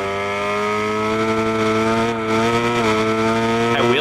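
A 1000cc MotoGP motorcycle engine in the TrackDayR racing game drones steadily at high revs, loud and continuous, with small pitch shifts and a sharp rise near the end.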